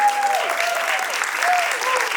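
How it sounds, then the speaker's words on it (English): An audience at a music-industry sustainability panel claps in a dense, steady burst of applause throughout, loud and close, with a few faint voices mixed in. "Round of applause for Alyssa."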